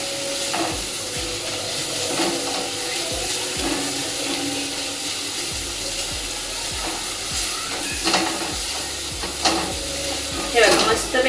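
Chopped onion sizzles steadily in a hot pan as it softens, a continuous frying crackle with occasional sharper clicks of stirring, close and fairly loud with no talk.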